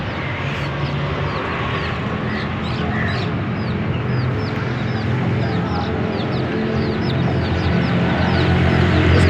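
A young rooster about a year old on a home hen farm clucks repeatedly among other chickens, with steady rapid clucking over a dense, noisy farmyard background.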